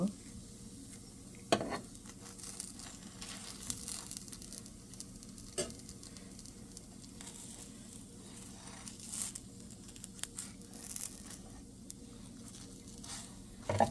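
Patishapta pitha with a milk kheer filling cooks in a pan, giving a soft, quiet sizzle with occasional clinks and scrapes of a utensil against the pan at scattered moments.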